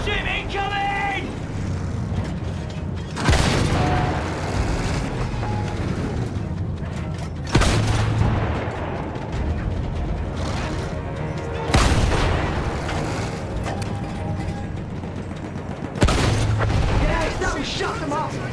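Battlefield 1 field gun artillery explosions boom out four times at roughly four-second intervals, each a loud, sharp blast followed by rumble, amid constant battle noise and shouted voices.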